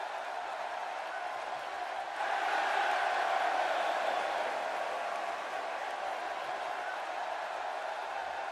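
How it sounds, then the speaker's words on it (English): A stadium crowd in the WWE 2K16 wrestling video game roars for a wrestler's entrance: a steady distant crowd noise swells louder partway through, then holds at a sustained cheer. "Man, listening to the reaction this guy gets from a crowd never gets old."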